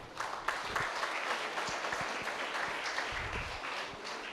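An audience at a Rotary training camp claps steadily for several seconds, a dense, even wash of applause heard moderately near with no one speaking.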